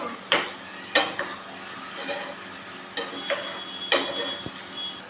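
A spoon scrapes and clanks through food in a hot pan, with sharp knocks about once a second over a low background sizzle.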